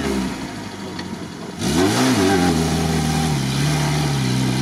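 Niva climbing off-road, engine quiet at first, then surging into a loud, rising rev that holds strong and close as it drives on.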